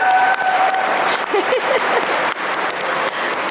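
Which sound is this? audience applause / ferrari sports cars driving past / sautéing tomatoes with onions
audience applause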